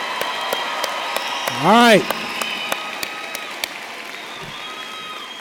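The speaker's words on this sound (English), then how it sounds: "A round of applause, please." Applause from a commencement audience at a college ceremony, a steady wash of clapping throughout with a short spoken phrase near the start.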